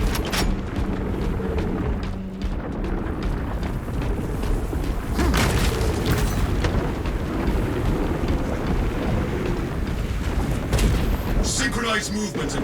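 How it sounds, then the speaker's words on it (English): A frag grenade goes off in the Warhammer 40K game Space Marine 2 on Absolute difficulty, a deep boom bursting through dense gunfire, artillery-like rumble and wind noise, with game voice lines heard over the din. "Deploying frag grenade."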